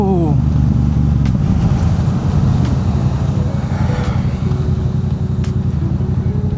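A Yamaha MT-07 motorcycle rides along with a loud, steady engine drone and rushing road and wind noise close up, with a rider's voice talking over it.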